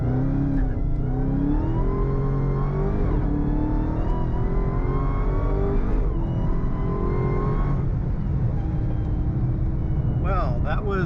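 A rear-wheel-drive Dodge Charger Hellcat with 797 hp roars up a freeway on-ramp under hard acceleration, its loud, continuous engine note climbing steadily through the gears for the whole stretch.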